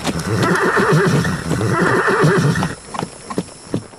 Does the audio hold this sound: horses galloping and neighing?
yes